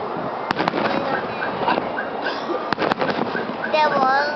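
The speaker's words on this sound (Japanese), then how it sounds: "花火" Fireworks exploding outdoors, with a few sharp, loud bangs and crackling bursts scattered across a steady background of voices and crowd chatter.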